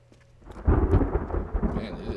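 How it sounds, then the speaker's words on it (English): A thunderstorm in The Forest video game builds from quiet into a loud, rolling thunder rumble layered over steady rain, the low boom swelling and lingering close by. "Man, it has just been stormy lately."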